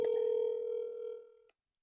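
A single telephone tone holds steady on a phone call for about a second and a half, then cuts off abruptly, with no talk over it.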